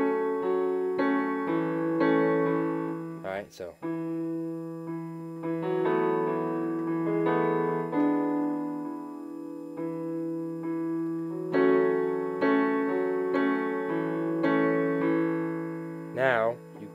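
A piano plays the chord part of a song, with repeated chords and a moving bass line, close and steady. Someone speaks briefly over it near the start.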